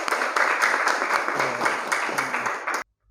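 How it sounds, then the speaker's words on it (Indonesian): A classroom full of hands clapping together in steady, dense applause for nearly three seconds, then cutting off abruptly into silence. "Beri tepuk tangan untuk kalian semua."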